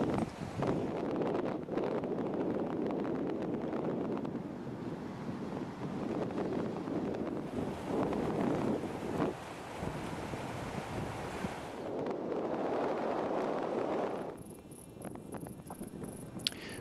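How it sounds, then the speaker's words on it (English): A sailing boat crossing toward Walker Island in moderated wind, with steady wind rush buffeting the microphone and waves and surf washing around the hull, loud and continuous throughout. "As they set sail, we could see that the wind had moderated and that it looked good for crossing"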